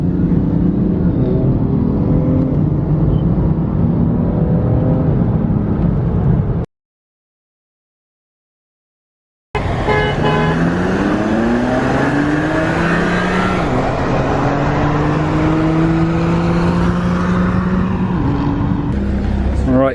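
A BMW M3 and a tuned 410 hp BMW 335d accelerating hard side by side from a rolling start, loud rising engine drones climbing through gears, broken by a short silent gap.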